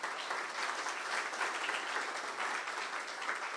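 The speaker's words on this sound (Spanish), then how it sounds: "entonces démosle un aplauso a Jesús" A church congregation applauds together during a Spanish-language sermon, a steady, dense wash of clapping from many hands, moderately distant, sustained throughout with no talking over it.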